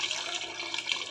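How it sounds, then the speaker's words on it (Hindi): Water poured into a pot of mutton korma being cooked, a brief steady rushing splash that is close and even, with no talking. "पानी शामिल करूँगी इसमें"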